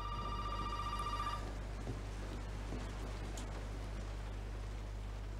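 A telephone rings in the Resident Evil 7 video game, a short run of rapid electronic trills for about a second and a half before cutting off, leaving a low steady hum and faint ambience.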